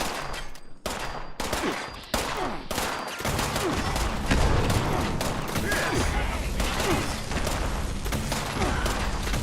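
Dense, continuous bursts of gunfire in a wasteland video game, rapid shots stacking into a loud, sustained fusillade that grows thicker after a few seconds, with no talking over it.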